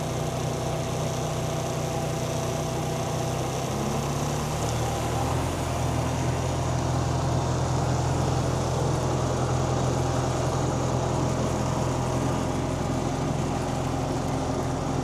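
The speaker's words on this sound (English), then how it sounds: "I'll just hit start on the tractor here, and the machine will start moving" Tractor pulling a robotic weed sprayer through a field, its engine running steadily with a low rumble and mechanical hum throughout, close and continuous with no talk.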